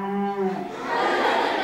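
A person imitates a cow with a drawn-out vocal moo, low and tonal, dissolving into soft laughter, heard up close during a jazz quartet's educational concert.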